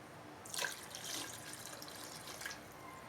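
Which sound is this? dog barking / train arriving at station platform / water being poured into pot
water being poured into pot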